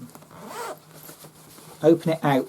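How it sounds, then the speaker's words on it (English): Clothing zip being opened out on a sateen garment during sewing, quick scratchy zipping bursts close up near the end, with a voice speaking quietly beforehand. "what I do is take the zip, open it out"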